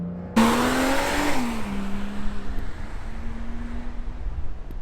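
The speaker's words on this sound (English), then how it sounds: "Into the Cayman flat six roaring away there." A Porsche Cayman's flat-six engine roars up loudly close by, accelerating hard uphill on Oliver's Mount road circuit in Scarborough, then easing off into a steady drone with wind noise.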